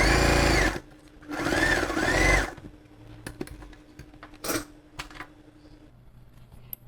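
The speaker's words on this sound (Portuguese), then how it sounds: "A gente faz aqui na máquina rapidinho, com um ponto grande." A sewing machine runs a long basting stitch along a concealed zipper seam in two loud, steady bursts, followed by quieter fabric handling and small clicks.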